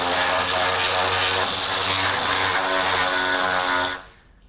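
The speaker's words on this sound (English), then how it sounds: "now I'll sand it all smooth with my sander" An electric sander whirs loudly and steadily over glued wood in a workshop, a sustained humming buzz with a constant pitch that cuts off abruptly near the end.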